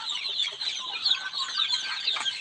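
About two hundred eleven-day-old native deshi chicks peep continuously in a farm brooding pen. Their thin, high chirps overlap into a lively, unbroken chatter at moderate loudness, with no talking.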